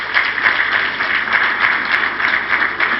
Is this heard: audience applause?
yes